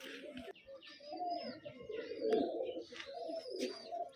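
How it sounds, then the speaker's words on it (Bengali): A male pigeon coos in low, rolling murmurs that run almost continuously, close by, with faint bird chirps over the top. "এই হচ্ছে নর পায়রা দেখুন"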